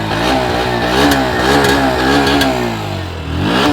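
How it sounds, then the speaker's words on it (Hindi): Bajaj Pulsar NS 125 motorcycle, a 125 cc bike, revving as the throttle is blipped, its exhaust note rising and falling in several loud, close surges over a steady idle. "एग्जॉस्ट नोट, थ्रॉटल देता हूँ।"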